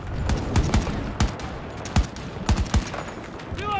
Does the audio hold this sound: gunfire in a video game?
yes